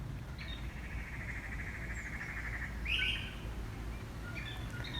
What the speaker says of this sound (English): I'm going to keep quiet and listen to the birds.